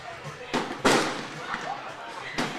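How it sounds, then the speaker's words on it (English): Fireworks go off just outside a ballpark during a Fourth of July American Legion baseball game, several sharp bangs at a distance landing among ongoing broadcast commentary. "the fireworks are really starting to heat up just outside the ballpark"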